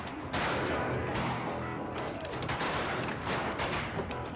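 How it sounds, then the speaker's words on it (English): Rapid, dense gunfire from buffalo hunters fills a western film scene, a near-continuous crackle of many shots that stays loud throughout, with faint talk underneath. "Look, they're shooting buffalo."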